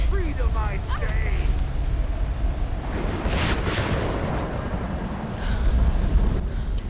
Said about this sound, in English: That's her lightning strike, almost signaling that she's listening to us